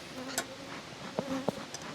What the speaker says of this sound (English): I got a couple of bees on me from hive number 1